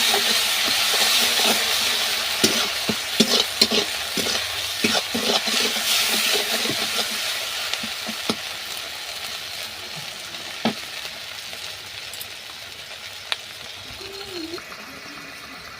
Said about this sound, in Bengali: এবার ভালো করে কষিয়ে নেবো মশলাটাকে